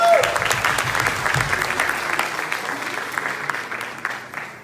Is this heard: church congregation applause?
yes